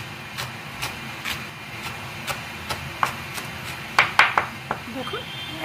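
Fried bori lentil dumplings being broken into pieces by hand: a series of sharp, crisp snaps at an uneven pace, close and fairly quiet, with a quick cluster of cracks near the end.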